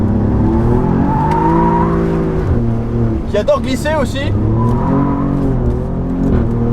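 Alfa Romeo Giulia QV with its 510 hp engine, revving and pulling hard through rising and falling tones, loud and close, with someone talking over it midway.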